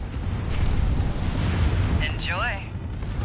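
Missile strikes in the Armored Core 6 video game produce a sustained, heavy rumbling roar that swells and then eases slightly. A voice speaks briefly over the blasts near the end.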